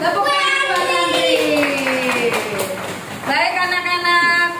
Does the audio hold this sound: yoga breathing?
no